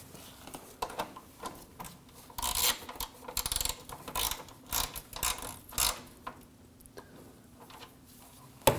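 A ratchet clicks in quick bursts while tightening fog light bolts on a 2009-2014 Ford F-150, close and fairly quiet, with pauses between runs.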